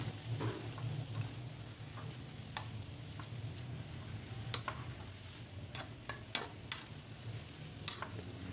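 Fried rice vermicelli tossed with sautéed spices and vegetables is stirred in a pan, giving a steady low sizzle with scattered light scraping ticks and clicks throughout, no voices.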